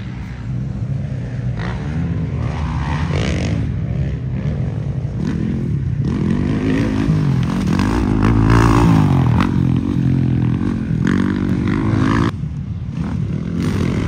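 Dirt bike engines droning and revving continuously on a motocross track over an Easter race weekend, a steady loud rumble with swells as the bikes pass.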